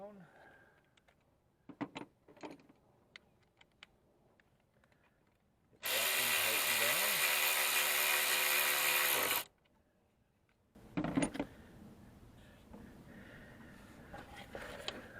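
A power tool tightens bolts on the intake of a 2010 Jeep Patriot, giving one loud, steady whir of about three and a half seconds between quieter clicks and handling noises.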